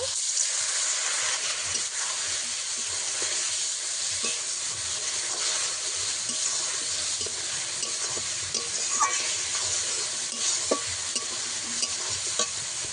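Water goes into a sizzling okra and potato curry, a loud continuous hiss and spatter with scraping stir strokes and small clicks, close and steady, no voices.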